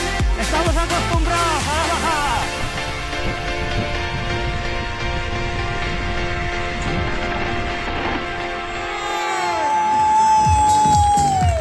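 A crowd cheers and applauds at a BTT mountain bike race in Deza, Soria, with a steady dense roar of many voices and some high tonal whistles, loud and continuous throughout.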